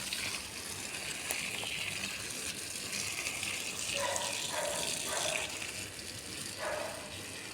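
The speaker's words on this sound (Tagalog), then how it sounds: "Ayan, diligan natin siya." Water is poured onto garden plants, a steady hissing splash that runs without a break, with a few soft gurgling bursts in the second half.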